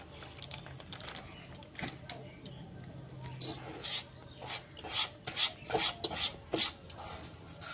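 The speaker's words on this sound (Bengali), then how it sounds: "এটা দিয়ে ভালো করে ব্যাটারটা গোলা যায়।" Pancake batter made with milk being whisked in a bowl: a run of irregular scraping, sloshing strokes that grow louder and quicker toward the end.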